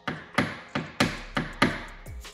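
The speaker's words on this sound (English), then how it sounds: "A few light taps with a hammer and knockdown, just blending in any higher areas from the affected area" A hammer lightly tapping down high spots around a repaired dent in an Audi RS 3 body panel, five crisp metallic knocks at an even, unhurried pace, close and clear, followed by a softer final touch.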